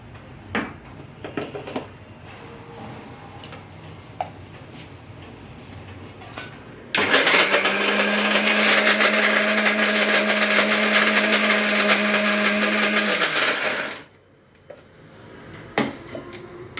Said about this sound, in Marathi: आता जे मी वाटप काढलं आहे ते मी मिक्सरमध्ये वाटून घेते